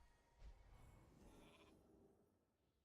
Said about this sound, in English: I'm gonna sheep.